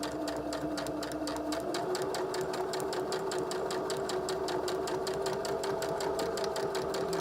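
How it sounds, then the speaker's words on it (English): A sewing machine stitches slowly around a fabric face mask, running as a steady close mechanical whir with a rapid, even needle rhythm throughout and no talk. "slowly stitch around that piece"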